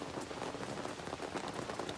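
Steady rain patters on surfaces outdoors on a chilly morning at a campsite, a dense continuous hiss with scattered drop taps, no voices.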